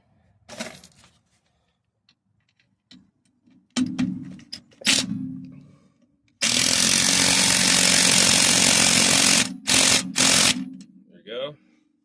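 Power tool tightening a bolt on a Jeep ZJ rear suspension with a 4-inch lift, a short whir and several brief bursts, then one long loud continuous run and a couple of final close bursts, with a clink or two between.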